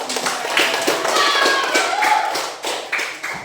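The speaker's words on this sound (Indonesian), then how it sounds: "Tepuk tangan untuk temannya karena mau." Schoolchildren in a classroom clap for a classmate during an unplugged lesson, a scattered irregular patter of hands with voices over it, close and moderately loud.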